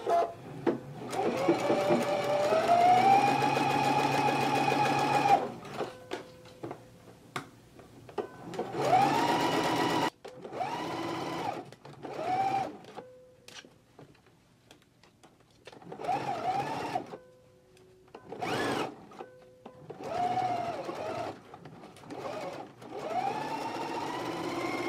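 Sewing machine stitching a collar dart on Simplicity pattern 8985, running in several bursts of steady whirring separated by short pauses, close and fairly loud.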